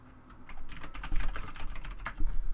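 Rapid typing on a computer keyboard during a Photoshop tutorial, with busy clattering keystrokes that pick up and grow louder toward the end, heard close and alone.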